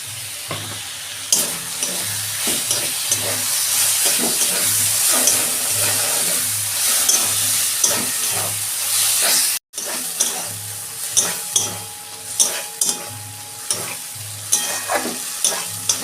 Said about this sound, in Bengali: এই যে মাছের তেলটা দিয়ে দিচ্ছি এবার